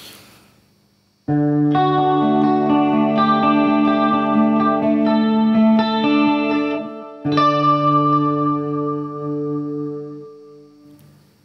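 Clean electric guitar chords ring out with a short pause, then a second strummed chord sustains and slowly fades.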